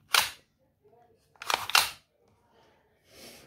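A BB gun slide racked by hand, two sharp mechanical clack bursts close up, separated by quiet, with a softer rustle at the end.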